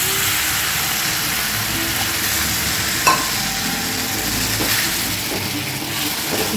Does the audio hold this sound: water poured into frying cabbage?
yes